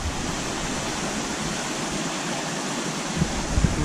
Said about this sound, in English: it looks like it might be a waterfall over there